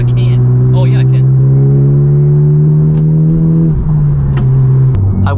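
Honda Civic Type R FK8 fitted with new TE37 wheels, its engine droning loud and steady from inside the cabin as it pulls, the pitch dropping with a gear change.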